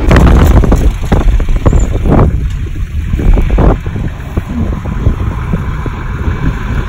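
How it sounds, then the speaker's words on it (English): Strong wind gusts outdoors on a warm day, buffeting and roaring loudly across the microphone in uneven surges, with no voices heard. "It's in the 50s and it's very windy."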